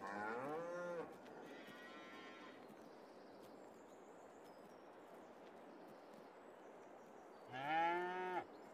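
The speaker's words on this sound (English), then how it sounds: "Yep, big cows." Cattle in the Farming Simulator 22 video game give two loud, drawn-out moos, one at the start and one near the end, separated by a quieter low bellow over a steady outdoor ambience.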